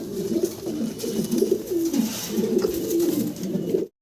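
Two Maltese blue bar pigeons coo steadily and close by, with repeated low rolling calls overlapping across the whole stretch and no talking.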